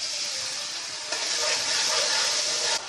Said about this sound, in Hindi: अब हम इसमें ऐड कर देंगे अदरक लहसुन का पेस्ट।